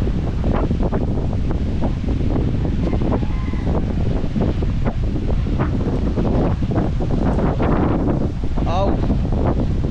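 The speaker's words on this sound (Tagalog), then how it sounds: "Oh, lakas ng hangin." Strong typhoon winds from Typhoon Carina roar at the seashore, a dense, constant buffeting rush across the microphone with surf churning underneath and a voice speaking briefly.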